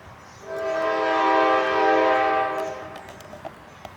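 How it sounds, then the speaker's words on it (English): Train passing with a sustained, harmonic horn blast that swells in for about two and a half seconds, then fades, followed by faint clicks over low background rumble. "The train is drowning you out."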